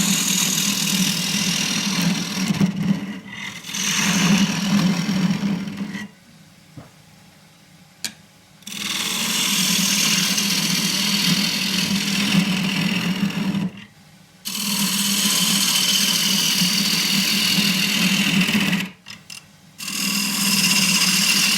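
An oak treasure box is hollowed on a wood lathe with a 3/8 deep fluted bowl gouge. A steady motor hum runs through long cutting passes, broken by several brief pauses where the tool lifts away.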